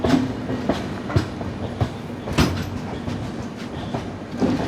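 The Garib Rath Express, an AC train running from Kochuveli toward Thrissur, rolls along the Kottayam line in Kerala, with a continuous rumble and repeated clickety-clack wheel beats at a moderate, fairly distant level.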